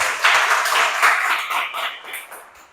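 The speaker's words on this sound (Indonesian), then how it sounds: "Baik, tepuk tangan untuk kita." Children clap their hands together in a brief burst of close, lively applause during a morning class, the claps dense and overlapping before fading near the end.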